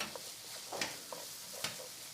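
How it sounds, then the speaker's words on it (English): Sofrito fries with vegetables in a pan, a soft sizzle broken by a few sharp scraping stirs, fairly quiet and without speech. "now I'm frying, like she mentioned, frying the sofrito in with the rest of the vegetables"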